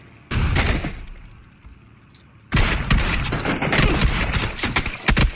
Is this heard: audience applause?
no